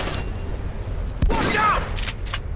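Gunfire in the video game Aliens: Dark Descent comes as a rapid burst of shots and a boom, mixed into game noise and close, with a person talking over it.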